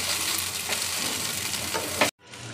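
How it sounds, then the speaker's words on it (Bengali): Chowmein noodles are stir-fried with fried vegetables in a pan, giving a loud, dense sizzling hiss with tossing scrapes, cut off abruptly near the end before the sizzle fades back in. "এখন আমি সবজির সঙ্গে ভেজে রাখা সবজির সঙ্গে ভালো করে চাউটা মিশিয়ে নিচ্ছি।"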